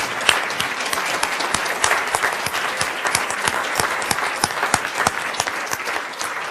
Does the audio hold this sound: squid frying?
no